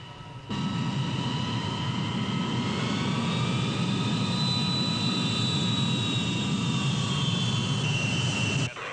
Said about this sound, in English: Trans-Allied 136, you're cleared for takeoff.